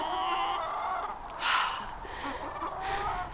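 A hen in a backyard flock clucks and murmurs close by, with a louder squawk midway, over a soft outdoor background with no talking.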